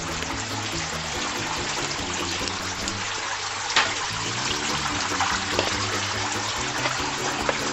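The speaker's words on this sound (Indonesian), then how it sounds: "selang sudah terhubung ke keran, kita masukin kerannya ke dalam bak penampung dulu ya." Water flows from a hose connected to a tap into a holding tub on an urban farm, a continuous close trickling rush with a few small knocks over it, with no talking.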